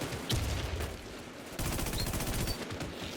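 Rapid automatic gunfire in the video game Midnight, with sustained bursts of shots ringing loud and close for most of the moment, with no talking.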